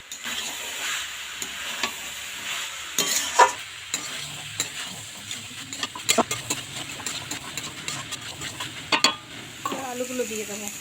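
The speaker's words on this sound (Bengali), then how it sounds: "এবার মটরটাকে বেশ খানিকক্ষণ খুন্তি দিয়ে নাড়াচাড়া করব, যাতে প্রত্যেকটা মশলা ভালোভাবে মটরের সঙ্গে মিশে যায়।" A spatula scrapes and stirs peas through spices frying in a pan for kima ghugni, with repeated close scraping strokes and clinks over a steady sizzle.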